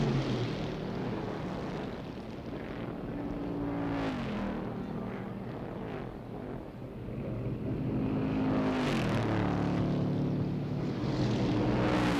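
Stock cars from the 1962 Firecracker 250 at Daytona International Speedway roar past in a loud, sustained engine drone, with pitch sweeps as the leading cars approach and pass, one after another.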